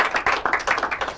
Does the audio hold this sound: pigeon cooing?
no